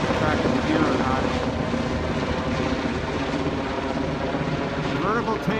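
A Sikorsky S-92 helicopter runs with a loud, steady turbine and rotor roar that holds at a constant level throughout.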